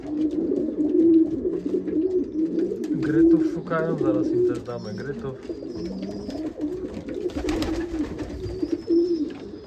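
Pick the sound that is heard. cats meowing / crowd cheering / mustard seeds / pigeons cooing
pigeons cooing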